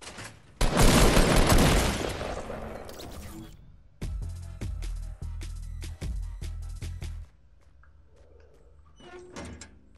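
Grenade explosions in the video game Fortnite: one heavy, roaring blast, then a quick run of sharp, punchy bangs a few seconds later, with a short faint burst near the end.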